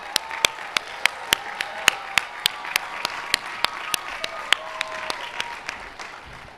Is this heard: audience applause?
yes